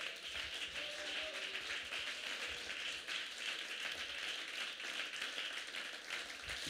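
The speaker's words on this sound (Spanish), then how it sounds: "Ese aplauso es para el Señor." A church congregation applauds during a Spanish-language sermon, giving a dense, steady wash of many hands clapping at once that holds evenly from start to finish, with a faint voice briefly audible early on.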